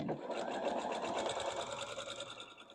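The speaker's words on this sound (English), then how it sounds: "now I'm going to continue to sew through" A sewing machine stitches steadily through quilt pieces with pointed patchwork seams, its fast, even mechanical rattle running continuously at close range with no voice over it.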